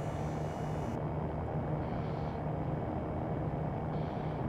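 A simulated E-Flight Cirrus SR20 light aircraft rolls into takeoff in X-Plane 11, a steady droning engine rumble with a low hum, loud and constant throughout.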